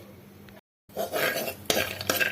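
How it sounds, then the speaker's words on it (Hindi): Almonds dry-roasting in a pan over low heat, with dry scraping and rattling of nuts against metal as they are stirred, fairly close and steady, broken by a brief silence. "बादाम को भून लेंगे।"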